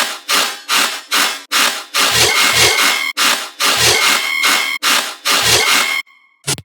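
A dubstep riddim bass synth hammers out loud, gritty, rasping bass hits in a choppy, syncopated rhythm, each burst cutting off sharply into short gaps, ending with a brief quieter tail.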